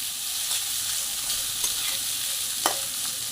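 Chana dal, partly cooked, is sautéed in a pan with roasted green chilli and garlic for a dill greens dish, giving a steady close sizzle with a few scraping spatula strokes and no talk.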